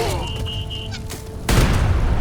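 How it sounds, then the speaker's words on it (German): A loud, deep cannon boom in Age of Empires 3 erupts partway through, followed by a rumbling broadband blast that lingers, after a quieter stretch with a faint tone. "Kanone ans Werk"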